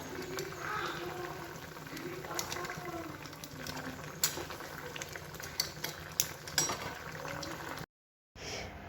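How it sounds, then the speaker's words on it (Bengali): Hilsa fish curry with mustard paste and green chilli paste simmers in a pan, a steady close bubbling hiss with occasional sharper pops and faint voices in the background. "তো ইলিশ মাছের ঝাল করছি সর্ষে বাটা দিয়ে, কাঁচা লঙ্কা বাটা দিয়ে।"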